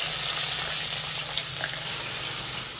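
Onion goes into hot oil with cinnamon and bay leaf, giving a continuous close, bright sizzle that stays steady throughout, alone without speech.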